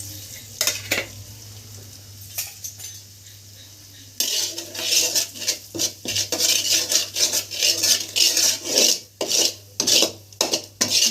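Lotus seeds and powder are stirred and scraped around a pan of hot ghee, first a few quiet strokes and then a fast run of loud, close rasping scrapes with a faint sizzle underneath.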